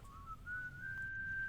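A single eerie whistle, a thin pure tone sliding slowly upward in steps and holding for over a second, alone over faint low background hum.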